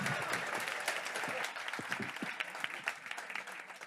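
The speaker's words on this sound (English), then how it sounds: "A big round of applause, everyone." Audience applause for astronaut and senator Scott Kelly aboard an Antarctica voyage, a sustained crackle of many hands clapping at moderate volume that thins out slightly toward the end.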